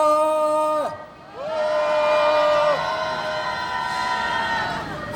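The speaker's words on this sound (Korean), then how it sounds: "우리 같이 함성 외쳐볼까요?" A crowd at a Korean nighttime flashlight rally lets out a loud collective shout and cheer, a sustained roar of voices that eases off toward the end.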